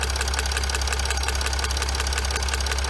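A loose fuel injector ticks on a running Chrysler 300C engine. Rapid, steady ticking sounds close up over the continuous idle hum of the engine, with no talking.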